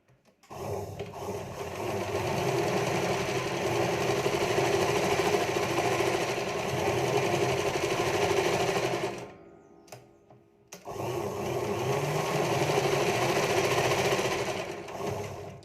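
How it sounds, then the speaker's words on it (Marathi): A sewing machine stitches lining to the main fabric of blouse cup pieces with a steady, rapid whirring hum. Stitching stops briefly for about a second, then resumes at the same even pace. "पूर्ण कटोरीला अशा पद्धतीने सगळी पण आपल्याला टीप टाकत घ्यायची आहे"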